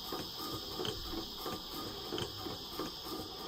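An instrument air compressor runs quietly in intermittent mode between dump valve cycles, giving a steady low mechanical hum with faint rhythmic ticking and a constant high hiss.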